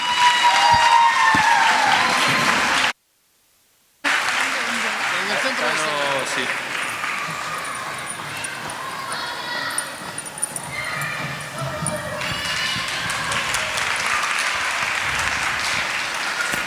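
Audience applause at a Christmas karaoke night in 2012, after a duet of two women singing is introduced; steady loud clapping with crowd noise, briefly cut by a second of silence, then continuing.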